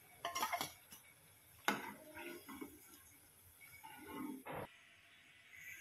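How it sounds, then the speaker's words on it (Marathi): Crisp onion bhaji lifted from the pan onto a plate, with a few light clinks of metal utensils against cookware, a short flurry at first and then isolated taps, close and quiet. "आता हे मी काढून घेते प्लेटमध्ये।"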